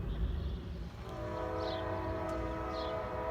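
A train approaches the Princeton, Indiana depot, a distant low rumble with a horn sounding in steady tones midway through and continuing to the end.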